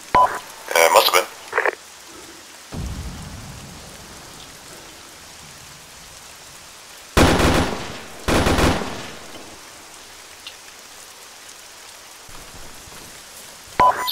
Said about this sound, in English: We're taking shots from the southwest.